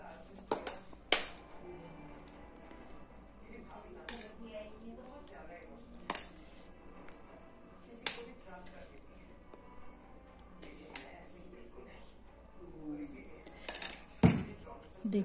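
Gravy is served over malai kofta, with sharp metal utensil clinks and taps on dishes scattered irregularly across a quiet kitchen, close up, with faint speech in between.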